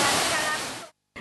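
Kuta Malaka waterfall in Aceh, a tiered cascade, gives a loud, steady broadband roar of falling water that cuts out briefly near the end, then resumes.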